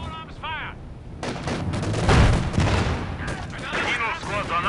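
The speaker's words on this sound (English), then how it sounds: "Taking small arms fire" Small arms gunfire in a Company of Heroes battle, a dense crackle of rifle and machine-gun shots mixed with heavier booms and whistling sounds, loud and continuous.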